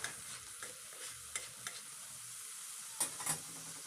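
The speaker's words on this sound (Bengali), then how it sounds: "এবার কাঁচামরিচ এবং ধনে পাতার এই মিশ্রণটি পেঁয়াজ এবং রসুনের সাথে ভালোভাবে কিছুক্ষণ নেড়ে ছেড়ে ভেজে নেব" Green chili and coriander paste is stir-fried with onion and garlic for an egg bhuna. A spatula scrapes the pan in scattered strokes over a soft, quiet sizzle, with no voices.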